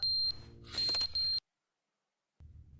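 Smoke detector in The Stanley Parable video game: high, piercing electronic beeps in short bursts, loud and close, cutting off abruptly into a second of silence before faint room tone returns.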